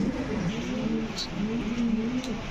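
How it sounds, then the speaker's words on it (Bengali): A farm full of fancy pigeons of Beauty, King and Lahori breeds coos in repeated rolling, wavering calls close by, with a steady background hum and a few faint clicks. "আজকে তো পুরো খামার ভরা কবুতর"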